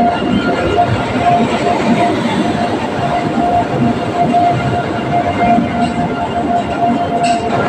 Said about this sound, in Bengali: দেখো ট্রেন ঢুকে গিয়েছে প্ল্যাটফর্মে